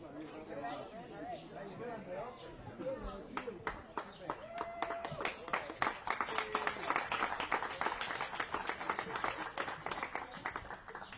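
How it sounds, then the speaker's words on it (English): An outdoor crowd applauds at a political event, the claps building from scattered to dense and steady. People chatter and call out over the clapping early on. "Applause in your own backyard."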